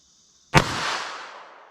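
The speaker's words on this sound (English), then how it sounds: "Now let's hit it with our 32 ACP." A single sharp gunshot from a .32 ACP pocket pistol firing flat point ammunition, a loud close crack followed by a rolling decaying echo.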